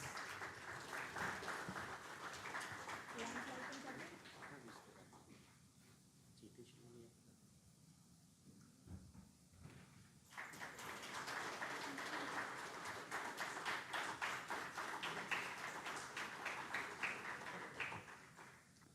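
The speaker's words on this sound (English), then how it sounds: "can we have a huge round of applause?" A stock-market bell-ringing ceremony audience applauds a guest being presented a bouquet, broad clapping that dips into a quieter lull in the middle before swelling again, with a voice speaking over parts of it.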